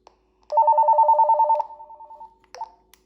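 An intercom unit on channel 5F rings for an incoming call. A warbling electronic ring pulses steadily for about a second, then trails off, and a short click follows near the end.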